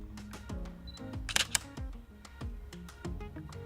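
A camera shutter fires at 1/800 second, heard as a couple of sharp mechanical clicks over busy background music.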